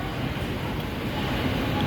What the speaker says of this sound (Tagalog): dito napakahangin. Masarap ang hangin dito sa labas.